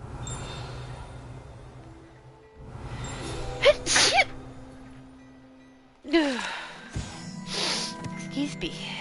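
Two sharp human sneezes, the first fairly muffled and the second louder after a pause, set against quiet room noise, with faint speech and breathing around them.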